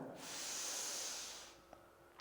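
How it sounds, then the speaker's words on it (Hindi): One long, deep breath drawn in during a neck-stiffness stretching exercise: a steady, close, airy rush lasting over a second, then quiet, with no talking. "तो लंबा गहरा सांस लेना, इसमें भी मतलब डीप ब्रीदिंग तो करनी है साथ साथ।"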